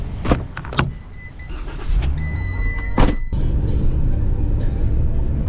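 Car cruising along a road on an hour-long drive, steady interior road rumble and engine hum building after a few sharp clicks and thumps at the start, with no talk over it.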